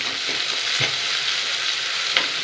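Mustard seeds and green chillies crackle and sizzle in hot oil, a dense continuous hiss with a few soft pops and stirring taps, close and fairly loud with no voices.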